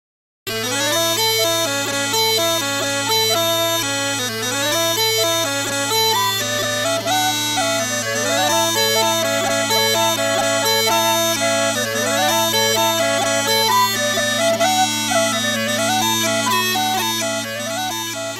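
The very old Borders tune Jackie Latin played on bagpipes, a continuous loud drone beneath a quick, flowing ornamented melody, steady and unbroken throughout with no voices.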